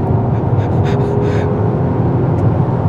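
Volvo S90 Recharge plug-in hybrid under full throttle, accelerating hard from about 80 km/h while overtaking a truck: a loud, steady drive and road roar sustained close up with no speech.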